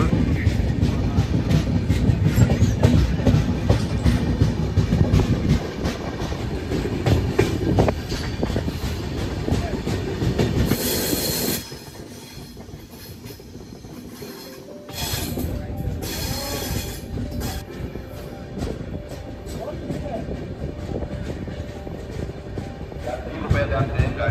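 Mysore–Jaipur superfast train pulling into Sevagram Junction: a loud, continuous rumble of wheels and carriages close by, easing into a quieter hum with squeals and station sounds, and voices in the background.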